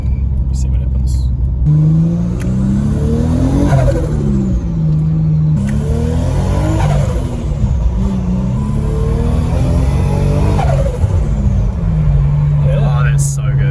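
Nissan Skyline R33 with an RB25 engine revving on a dyno, loud repeated rising and falling pulls at half throttle dropping back to a steady idle between them, with people talking over it.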